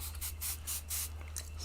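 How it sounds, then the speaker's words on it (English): Several short bursts from a spray bottle misting water onto a computer monitor for cleaning, quick close hisses in an uneven rhythm against a low steady hum. "Spray with some water."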